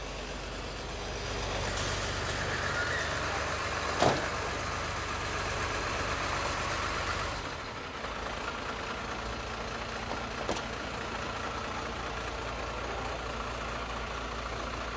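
A tow truck's diesel engine idles steadily at moderate distance while a burned police car is removed on a street in Cayenne, French Guiana, with a brief clank and passing noises over the low rumble.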